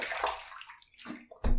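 Water splashing and sloshing as a face is rinsed after a pass with a Facon razor, in quick close bursts with brief pauses between, ending in a louder splash.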